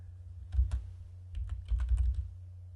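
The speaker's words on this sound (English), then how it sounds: "Let's see if I type in order flow." A computer keyboard clatters in two short bursts of quick keystrokes, close and fairly soft, with a brief pause between them and no voices.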